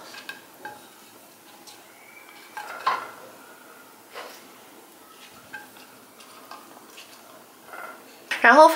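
Scallions and ginger are laid flat in the bottom of a cast iron pot for Dongpo pork. Sparse, light clinks and knocks of handling come close up, ending in a louder clatter.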